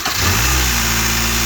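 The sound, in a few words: engine cranking and starting after spark plug change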